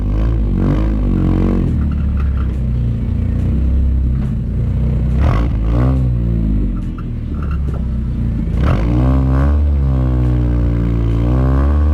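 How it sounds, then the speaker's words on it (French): A running Nissan NX convertible car's exhaust rumbles steadily at close range, with a deep even idle broken by a few brief revs and throttle blips, heard alone without talk. "Alors je vais vous mettre le son à l'échappement pour que vous entendiez."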